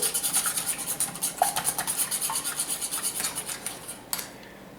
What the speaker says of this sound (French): je vais battre mes œufs ensemble, les 2 œufs que j'ai mis